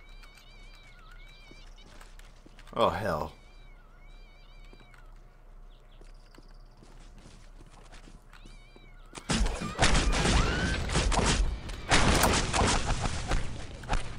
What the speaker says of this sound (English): Literally raining cats and dogs.